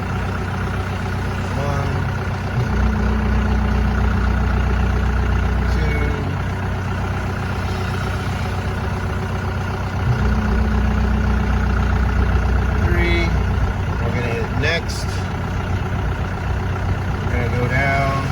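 Loader engine idling steadily during a Walz LS 300 scale calibration, a continuous low rumble running through the whole stretch under a voice counting and talking.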